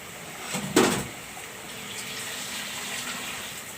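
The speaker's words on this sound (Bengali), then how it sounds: "এখন আমি একটু সামান্য পানি দিয়ে দিব।" A small splash of water is poured into a simmering pot of jackfruit seed, taro stem and shrimp curry, one short gush near the start and then a quiet, low background hiss.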